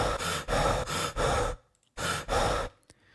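Looping breathing sounds for a game breathing audio system, a series of loud, close, heavy breaths in and out, four quick pulses, a pause, then two more with a faint catch at the end.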